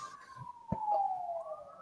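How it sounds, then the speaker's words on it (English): A wailing siren from the video game Far Cry 2 sweeps in a long tone through the short stretch, with a brief thump near the middle, moderately loud and alone. "Letting the sirens go."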